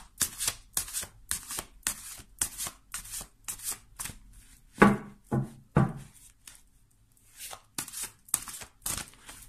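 A Thoth tarot deck being shuffled and cut, with a steady run of brisk riffling card bursts followed by a few heavier slaps and softer shuffles, close and alone without any talk.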